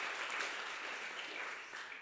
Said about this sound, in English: So please welcome our panelists with a small round of applause.